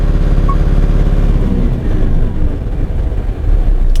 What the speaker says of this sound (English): the engine revolution return to idle